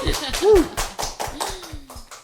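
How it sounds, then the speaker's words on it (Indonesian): A few people clap hands in a steady rhythm of about a dozen sharp, close claps during a hotel wedding podcast, with voices and a brief cheer mixed in. "Tepuk tangan."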